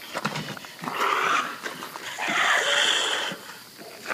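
Dog sounds heard outdoors at night in the woods, two drawn-out raspy barking or howling calls at moderate distance, with faint rustling between them and no talk.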